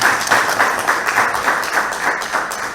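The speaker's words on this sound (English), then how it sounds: "Give him a round of applause." An audience at an awards ceremony claps in a steady, full round of applause, close and continuous throughout.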